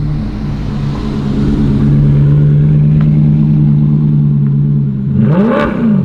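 Alfa Romeo 8C Competizione Coupe engine holding a loud steady drone while pulling in, then dipping and swelling briefly near the end, close and dominant.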